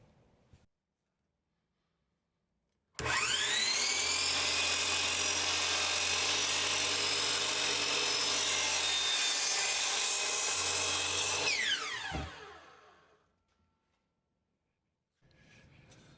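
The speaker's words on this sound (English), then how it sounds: "So we're gonna rip it down on the miter saw." Miter saw rips a wooden fence board for a birdhouse build, a loud sustained whining cut lasting about nine seconds after a brief pause, then spinning down as the blade slows to silence.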